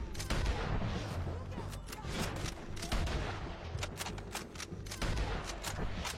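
Bolt-action rifle fire rings out in a shooter video game, with repeated sharp cracks and booms amid dense battlefield gunfire, all loud and continuous.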